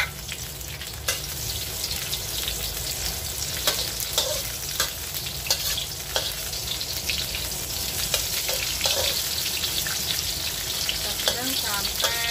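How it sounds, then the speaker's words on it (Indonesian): Steady, dense sizzling of ginger and garlic frying in hot oil, with occasional clicks and scrapes of stirring throughout. "setelah panas jahe dan bawang kita goreng."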